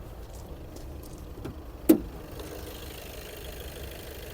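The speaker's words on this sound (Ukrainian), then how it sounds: "Гляньте, як працює двигун." A Skoda Octavia A7 RS car engine idles with a low, even rumble, broken once by a sharp knock or tap partway through.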